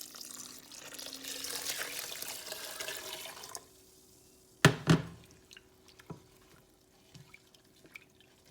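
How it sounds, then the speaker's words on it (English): Water pours steadily into a pot of lentil quinoa soup with coconut milk for a few seconds, then stops, followed by a couple of loud splashy drips and scattered faint drops. "And I'm going to add water."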